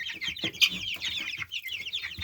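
A flock of young chickens, mostly hens along with two roosters, cluck and cheep softly nearby in a busy, overlapping chorus.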